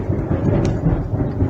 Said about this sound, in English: Wow, that was thunder, guys, if you heard that.